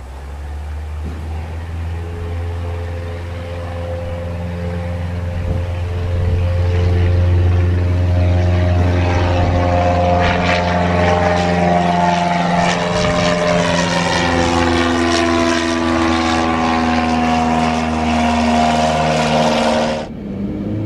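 A weight-shift trike aircraft drones steadily in flight, its engine and propeller making a loud, close, continuous buzz that swells slightly after a few seconds and cuts off abruptly near the end, with no talk.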